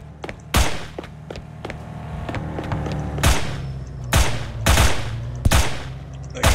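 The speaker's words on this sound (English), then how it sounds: "Like, I'm shooting this guy." Gunfire in the video game SinVerse as a character is shot: several loud, sharp shots spaced irregularly over a steady low background, with clustered bursts toward the end.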